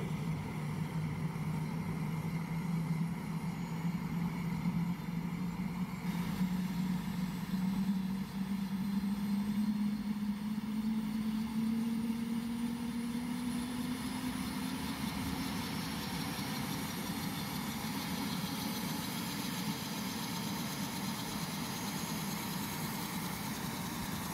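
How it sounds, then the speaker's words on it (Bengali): An engine starting up after a new fuel pump and metering valve were fitted: a steady whine climbs slowly in pitch for about fifteen seconds, then levels off into a constant idle drone, loud and continuous throughout. "ইঞ্জিন স্টার্ট শুরু হয়ে গেছে, সিকুয়েন্স শুরু হয়েছে, আস্তে আস্তে এখন স্টার্ট হচ্ছে"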